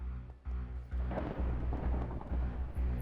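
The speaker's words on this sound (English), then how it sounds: "I heard that thunder" Thunder in the SevTech Ages Minecraft modpack, a low rolling rumble building after a brief pause and sustaining loudly to the end, with no talking.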